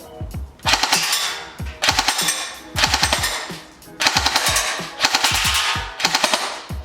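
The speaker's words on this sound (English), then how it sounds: "Now that semi-auto's out of the way, let's try some full auto." A Golden Eagle MCR LMG airsoft electric gun fires full-auto in five or six rapid bursts of about a second each, loud and close, with crisp mechanical cycling and short pauses between strings.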